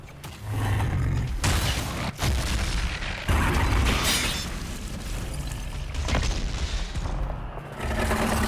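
A walking bomb ability explodes in the video game Dragon Age Inquisition: a string of heavy booming blasts and rumbling bursts, loud and close, with sharp cracks breaking through the continuous roar.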